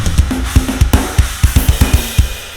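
A mixed drum kit with a 2 dB high-end boost at the drum bus plays a busy groove of kick, snare and cymbal hits, bright and loud, in a steady driving rhythm.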